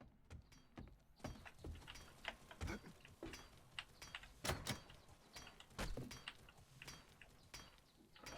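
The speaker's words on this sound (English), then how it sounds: "There's somebody knocking." Someone knocking and pounding on something inside the 7 Days to Die video game, a run of irregular sharp knocks and thumps at moderate distance, with no talk over them.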